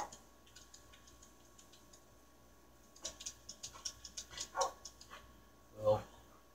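Minecraft dogs bark in a quick series of short yips, fairly faint at first, then a louder whimper or bark near the end.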